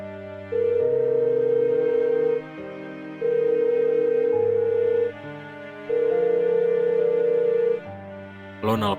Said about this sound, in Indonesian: Lo nelpon siapa?